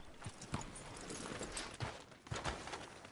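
Horse hooves clip-clop at a slow walk in a console video game, irregular hollow knocks close by over a soft ambient town background, with no speech.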